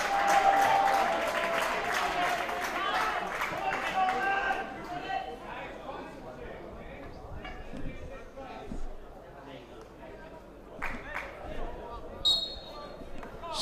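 Crowd noise swells for a home goal at a Grand Masters over-60 field hockey match between Scotland and Germany, loudest at the start and fading, while a commentator talks throughout.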